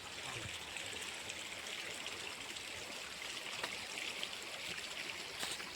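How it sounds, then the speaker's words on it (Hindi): A stream of sulphur water flows out of the jungle at Chitrakoot, keeping up a steady, even rush and trickle from start to finish with no one talking. "ये झरना जंगल से बहकर आ रहा है"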